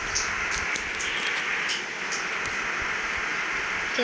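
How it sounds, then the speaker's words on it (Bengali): Rain falls in Bus Simulator Indonesia as a steady, even hiss, with faint ticking drops and a few soft taps over a low rumble. "বৃষ্টি নেমেছে বৃষ্টি নেমে গেছে"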